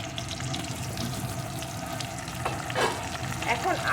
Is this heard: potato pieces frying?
yes